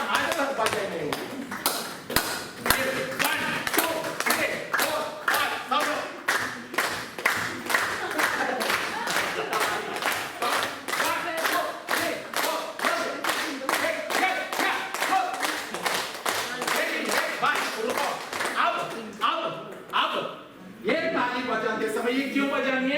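Steady rhythmic clapping from an audience with hands raised overhead at a motivational talk on joyful living, dense repeated claps going on for a long stretch with a voice speaking over them.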